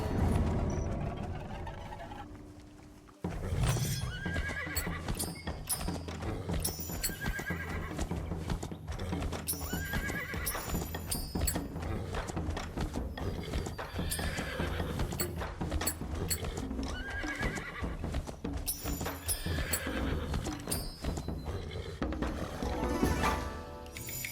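A horse in the video game Where Winds Meet whinnies several times while hooves clip-clop steadily throughout, with constant game ambience and no talking.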